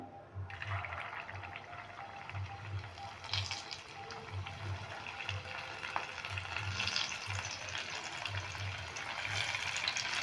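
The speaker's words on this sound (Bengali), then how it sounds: "হালকা গরমও হয়ে গেছে এবার আমি দিয়ে দিচ্ছি ভেজে নেওয়ার জন্য" Semolina and flour snacks frying in warm oil give a soft, steady bubbling sizzle with a faint low hum underneath, heard close by and without talk.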